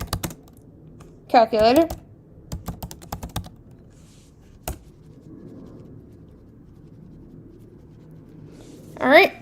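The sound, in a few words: typing terminal command on computer keyboard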